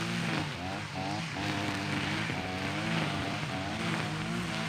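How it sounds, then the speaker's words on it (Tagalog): A second-hand 45cc brush cutter or string trimmer engine runs steadily with a buzzing, droning two-stroke tone that wavers slightly in pitch, heard close with possible voice underneath. "we will use our second-hand 45cc grass cutter with eater, with whacker, string trimmer, reaper sniper"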